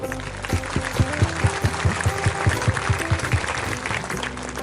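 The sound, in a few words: crowd applause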